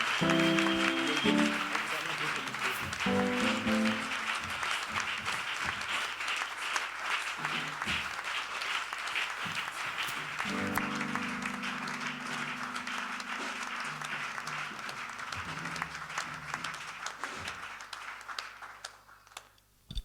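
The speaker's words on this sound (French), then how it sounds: "nous acclamons très fort le Seigneur" A church congregation applauds the Lord for a long stretch, loud sustained clapping and cheering with music tones underneath, fading away toward the end.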